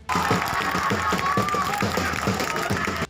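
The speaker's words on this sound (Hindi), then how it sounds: "समर्थकों ने ताली बजाकर उनका स्वागत किया" Supporters clap in a dense, continuous burst to welcome BJP leader Sunil Ram as he arrives at the edge of his village, with crowd voices mixed into the loud applause.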